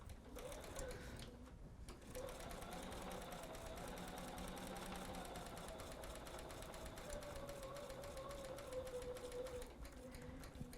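A sewing machine stitches a quilt block along a marked line, its needle running in a fast even whir close by, with a short pause near the start and then steady stitching.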